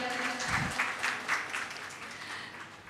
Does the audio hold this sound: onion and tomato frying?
no